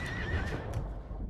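A horse neighs and whinnies loudly in the Battlefield 1 video game, a long, strained cry over dense battlefield noise with hoof clatter mixed in.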